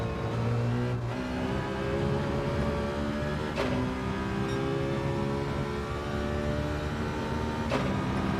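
A Mazda race car in a racing game drones steadily through a long lap, its engine holding a constant layered note with slight pitch shifts and a few brief gear-change blips.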